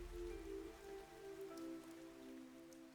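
Rain falling steadily in the game Fantasian Neo Dimension, a soft continuous patter beneath sustained soundtrack tones, faint and even throughout.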